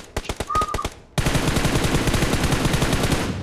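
Video game gunfire rings out as an automatic weapon finishes a knocked enemy: a quick burst of separate loud shots, then a dense, continuous rapid-fire stream, close and loud.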